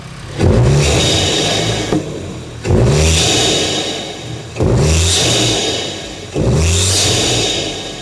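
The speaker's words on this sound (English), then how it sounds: "give you some rev so you can hear what it sounds like" A MK8.5 Volkswagen Golf GTI Clubsport engine with a sport air intake revs four times in a row, each burst surging up with a throaty intake roar and then settling back, recorded up close.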